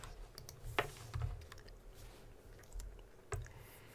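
A computer keyboard is tapped in a few quick, light bursts of keystrokes with short pauses between them, close and quiet, while a value is entered during embroidery digitizing.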